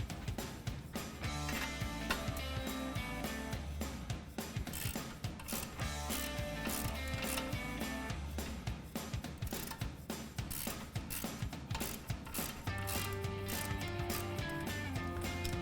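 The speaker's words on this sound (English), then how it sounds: "we're going to use a 21mm socket and our ratchet to go ahead and get this loose" A ratchet with a 21mm socket works loose the upper ball joint nut on a RAM 1500 front upper control arm, giving continuous rapid clicking pawl ratcheting, close and steady, with no speech.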